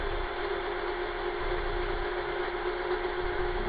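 A sewing machine winding thread onto its bobbin, giving a steady, even mechanical whir that holds at one speed throughout with no breaks.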